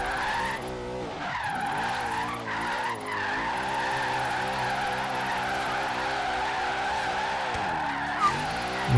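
A car drifting in Forza Horizon 3 produces a sustained engine drone with long, wavering tire screeches that swell and dip continuously for several seconds, loud and close with no talking.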